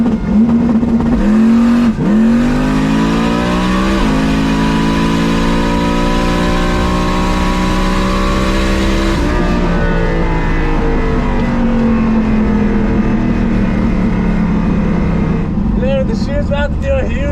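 A race car's engine roars at full power through a wheelie launch, loud and close, its pitch climbing in several steps like gear changes before it settles and fades near the end.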